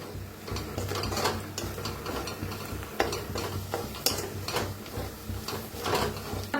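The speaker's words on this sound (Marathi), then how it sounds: "तर छान असं भाजून घ्यायचं बेसन पीठ बी कांद्यात" Gram flour roasting with onions in a pan, being stirred with repeated scraping strokes over a continuous sizzle, close and moderately loud, no talking.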